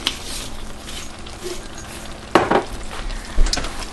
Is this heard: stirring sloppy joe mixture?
yes